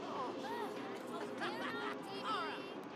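Crowd chatter in The Sims 3: a steady babble of several simlish voices with rising and falling exclamations, moderately quiet and continuous across the whole stretch.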